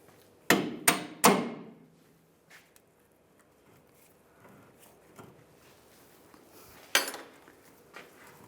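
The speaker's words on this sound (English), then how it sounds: "If you have to, you can hammer it out." Three sharp metallic hammer strikes ring out in quick succession as a bolt is hammered out of a leaf spring shackle bracket on a 2007-2013 Chevrolet Silverado, followed by quieter clinks and one more loud blow later, with faint lighter taps.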